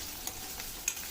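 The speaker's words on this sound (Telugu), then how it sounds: "సాల్ట్ యాడ్ చేసుకొని కలుపుకొని కొంచెం బాగా ఎర్రగా వేగాలి" Masala for a prawn curry fries and gets stirred with added salt in a pan, a steady soft sizzle broken by two brief scraping stir sounds.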